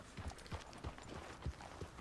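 Horse hooves clip-clop in Red Dead Redemption 2, soft, evenly spaced thuds of a horse walking at a steady gait, faint and fairly close.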